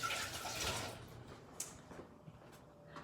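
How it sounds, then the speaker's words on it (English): Hands are washed under a running kitchen tap while preparing a salad, a faint splash of water at first that thins into scattered drips and small clinks. "Wash my hands."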